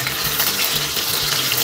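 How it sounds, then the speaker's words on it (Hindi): Potatoes fry in hot mustard oil for spicy achari aloo, giving a dense, steady close-up sizzle and crackle throughout. "तो आलू हम इसमें डाल देंगे और इसको जो है हम अच्छे से सर्व फ्राई कर लेंगे।"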